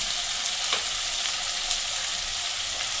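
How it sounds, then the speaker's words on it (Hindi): Tomatoes fry in a pan for an aloo baingan sabzi, giving a steady, dense sizzle with a couple of brief louder crackles and no voices. "टमाटर में दो मिनट भुन देना"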